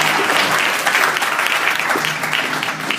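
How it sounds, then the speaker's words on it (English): Loud round of applause from an audience welcoming a panel member to the stage, continuous dense clapping that holds steady and eases slightly toward the end. "she's now going to get her own round of applause"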